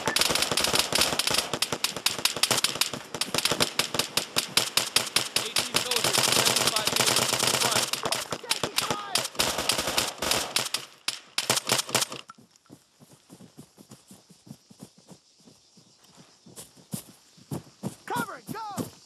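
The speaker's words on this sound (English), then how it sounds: "Contact! Machine gunner!" Loud, sustained automatic machine gun fire in ARMA III combat, dense bursts for about twelve seconds before thinning to sporadic shots, with voices calling out over the gunfire.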